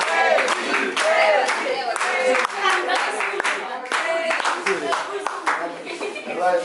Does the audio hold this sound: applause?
yes